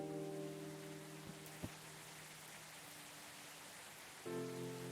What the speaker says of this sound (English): It's never stopped raining here in Seattle.